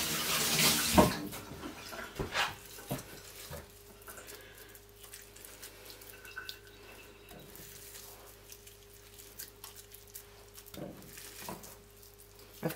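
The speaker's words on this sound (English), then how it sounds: "so I'm just going to wet my hands" Hands are wet under running tap water while making beef mince meatballs: a brief loud gush and splash at the start, then faint intermittent water trickles and handling noises in a quiet kitchen.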